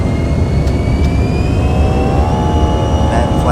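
Airbus A319 airliner engines spool up during takeoff in the MSFS2024 flight simulator, a loud, steady jet roar with a rising whine that holds throughout.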